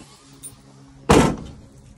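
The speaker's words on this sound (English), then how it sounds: "And then we shut the door" The tailgate door of a 2006 Honda CR-V swings shut with a single loud, solid slam about halfway through, preceded by faint handling sounds and followed by a short fading rattle.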